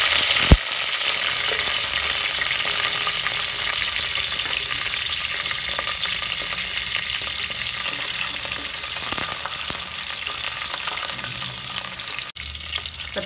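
Garlic and curry leaves frying with popped mustard seeds in hot oil for a green sundaikai gravy, a loud continuous sizzle with occasional stirring clicks, close and alone without speech.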